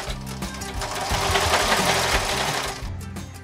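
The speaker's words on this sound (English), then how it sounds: "Here I am sewing the ruffles onto the bottom of the fabric panels that will make the skirt." A sewing machine stitching ruffles onto the bottom of fabric skirt panels, a close, rapid mechanical whir that speeds up and slows in bursts and then stops near the end, with no talking.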